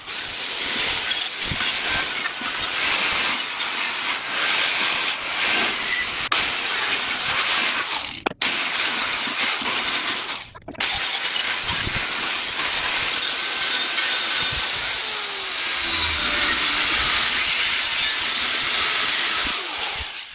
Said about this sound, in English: Alright, so I'm grinding for some feet where the stove can stand on